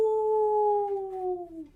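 A voice imitates a wolf howl, one sustained tone that slowly falls and fades, close and clear.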